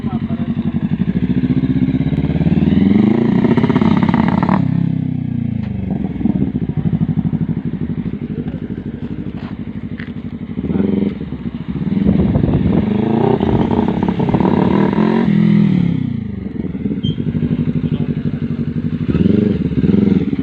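An FKM Falcon 400X motorcycle fitted with a straight pipe revs loudly and close, its engine rising and falling in repeated throttle blips with sputtering pops, while people talk over it.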